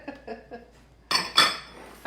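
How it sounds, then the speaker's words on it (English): A utensil clinks and scrapes against a pan while coffee, apple cider vinegar and maple syrup are mixed for bacon chutney, with a few soft taps followed by two louder metallic scrapes. "we're just going to kind of mix that together and make sure that we scrape the bottom of the pan really well"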